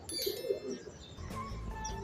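Ustad Latif's high flyer pigeons on a Lahore rooftop give soft cooing and chirps close by, with a brief flutter of wings amid quiet background sounds.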